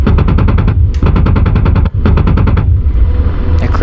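An AH-64D Apache's cannon fires in the DCS World flight simulator in three rapid, evenly paced bursts of loud, close, punchy shots separated by short gaps, followed by a quieter mechanical tail.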